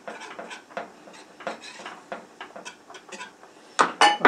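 Cayenne pepper being stirred into a bechamel cheese sauce in a bowl: quick, irregular clinks and scrapes of a utensil against the bowl, close up and alone, ending in a few louder knocks.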